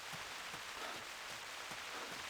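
Steady rain falls in the Timbergold Trails video game as a soft, continuous hiss of drops on a surface, quiet and even, with faint low patters scattered through it and no voices.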